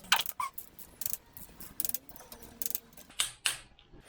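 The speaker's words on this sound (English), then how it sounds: "Torquing the oil pump." A torque wrench tightens oil pump bolts on a Land Rover SDV6 3.0L diesel engine, giving several short bursts of close mechanical ratcheting clicks separated by brief pauses in a workshop.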